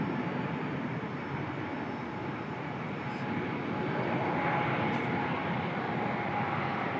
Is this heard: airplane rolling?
yes